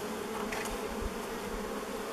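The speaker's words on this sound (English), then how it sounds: "This bee's bumping me right now." Honeybees buzz close around an old beehive left unopened for over thirty years, its comb being broken out, a dense continuous drone with a few louder passes as individual bees fly near.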